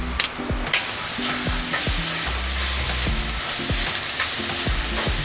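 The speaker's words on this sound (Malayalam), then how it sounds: "അതിൽ കുറച്ച് സവാളയും കൂടി ഇട്ട് ഇളക്കണം" Sliced onion fries in hot oil with spices for a chicken cutlet mixture while being stirred in the pan, giving a steady close sizzle broken by repeated scraping knocks of the spoon.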